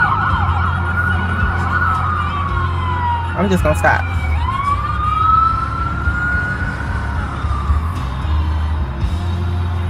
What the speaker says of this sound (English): There's an ambulance coming, y'all, and like, it's a couple of ambulances coming,